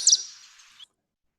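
A MacGillivray's warbler sings one short, bright buzzy phrase lasting under a second, then silence.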